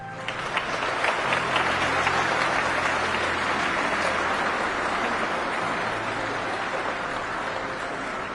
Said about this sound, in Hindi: पूरा हॉल तालियों की गड़गड़ाहट से गूंज रहा था